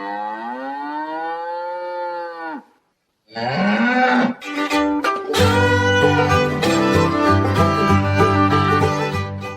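A cow gives one long, loud, drawn-out moo that ends abruptly. After a brief silence, a dense, sustained electronic tone passage rises, wavers, and swells into loud layered tones.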